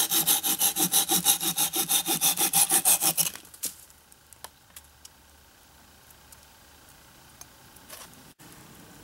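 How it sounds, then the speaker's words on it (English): Rapid, rhythmic back-and-forth sawing through wood, loud and close, cutting excess from an improvised axe handle, stopping after a few seconds and followed by faint scattered knocks and rustles. "Now we can saw off the excess"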